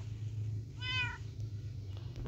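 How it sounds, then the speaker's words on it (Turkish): A Minecraft cat gives a single clear, short meow over a low steady background hum of game audio. "Burada da bizim tatlı pisimiz var."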